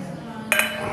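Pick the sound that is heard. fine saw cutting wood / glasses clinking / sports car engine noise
glasses clinking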